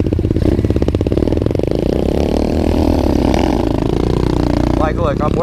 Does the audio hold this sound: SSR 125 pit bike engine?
yes